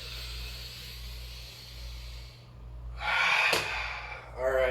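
Deep breath drawn in during a yoga flow, a rushing inhale rising after a quieter stretch, close and fairly loud over a low steady background hum.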